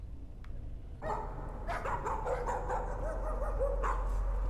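A dog in the video game Layers of Fear barks and yips several times over a low steady hum, the barks close and loud with short whimpering tones between them.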